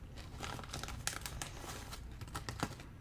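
A chip bag holding crunchy, thin cheese-flavoured corn snacks is crinkled and rustled close up in a steady, busy stream of crackly plastic noise, with no talking.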